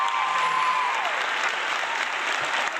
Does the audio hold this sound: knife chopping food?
no